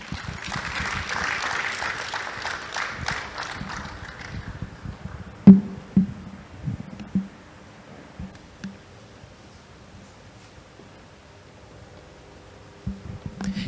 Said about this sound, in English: Can we applaud him for a very engaging presentation?